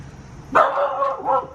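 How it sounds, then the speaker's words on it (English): A single drawn-out dog bark rings out nearby, rough and slightly wavering, over a quiet outdoor background. "Ooh, and a scary dog."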